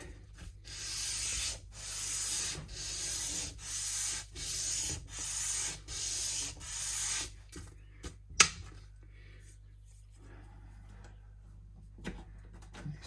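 Rhythmic back-and-forth strokes of lighter grit sandpaper on an acoustic guitar part during setup, about eight close, even passes that stop partway, followed by faint handling knocks and near silence.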